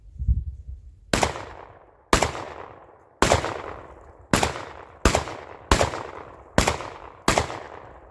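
Eight loud shotgun blasts from a Panzer EG200 firing Federal 1280 shells, spaced about a second apart with each report decaying before the next, preceded by a brief low thump.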